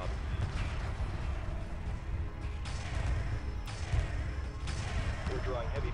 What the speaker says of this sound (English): We're drawing heavy fire.